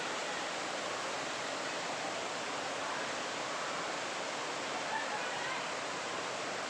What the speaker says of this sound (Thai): ดูน้ำตก น้ำตกสวยงามมากๆเลย